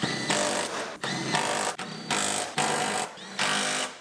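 An impact wrench runs bolts home on a Toyota RAV4 during a rebuild, firing in five loud, close rattling bursts of about half a second each, with short pauses between them.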